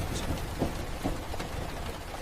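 Steady rain falling, a dense even patter with scattered louder drops close by, continuous and unbroken through the short stretch, no voices.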